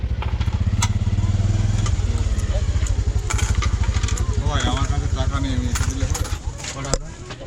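A motorcycle idles close by at the Dhamakhali ferry jetty on the Raimangal river, its rapid engine putter continuing steadily throughout while people talk nearby.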